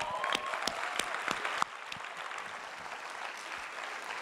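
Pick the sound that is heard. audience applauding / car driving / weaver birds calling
audience applauding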